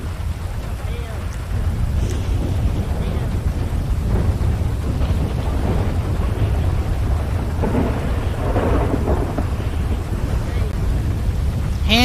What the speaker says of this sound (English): I can't hear you over the thunder